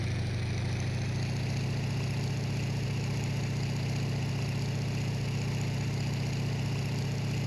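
Bf-109K-4 fighter engine idling steadily before takeoff in the IL-2 Sturmovik flight game, a constant loud low drone with a mechanical hum that holds evenly throughout, with no voices.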